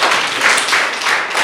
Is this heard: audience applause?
yes